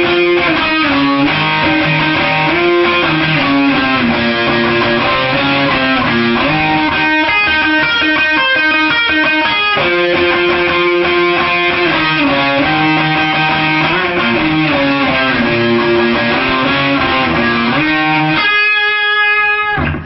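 Distorted electric guitar plays a solo, a dense, continuous run of overdriven lead notes and bends at steady loudness for about twenty seconds, ending in a burst of fast repeated picking, with no voice present.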